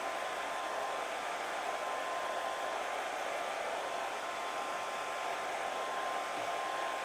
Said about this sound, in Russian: с помощью фена я ее подсушу